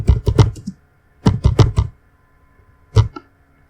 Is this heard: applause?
no